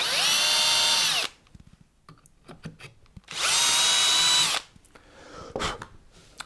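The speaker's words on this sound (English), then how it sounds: "I've got a 3/16 drill bit in my drill, and it's got a depth bushing, and I'm going to drill into the neck" Two loud bursts of a power drill with a 3/16 bit and depth bushing whining at full speed into a wooden guitar neck, each about a second long, with quieter handling clatter and knocks between them.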